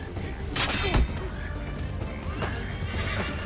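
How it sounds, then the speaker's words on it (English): A horse in Assassin's Creed 3 gives a loud, close whinny over hoof clip-clops and game background noise, followed by fainter snorting and movement. "This horse needs to get the hell out of the way."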